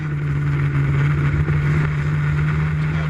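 Historic Formula Ford single-seater racing cars at Croft circuit, a loud steady engine drone with a strong constant tone, sustained and close throughout with no pauses.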